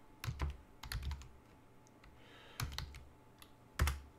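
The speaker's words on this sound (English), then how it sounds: "if I can type," Typing on a computer keyboard, heard as a few short bursts of quick keystrokes spaced apart, close and fairly quiet with no talk.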